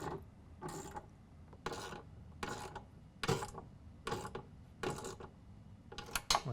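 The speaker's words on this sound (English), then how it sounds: "tighten down the ammo cans to that C channel we started before using a 7/16 wrench and a 3/8 ratchet" A 3/8 ratchet tightens bolts fastening ammo cans to a C channel in a truck bed storage system: steady bursts of close, rasping clicks, about eight strokes in a regular rhythm with short pauses between.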